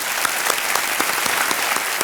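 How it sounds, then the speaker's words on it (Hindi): A studio audience on the KBC Hindi quiz show applauds, a dense, steady wash of many hands clapping at once, close and loud throughout. "एक बार फिर उनके लिए तालियां बज जाए।"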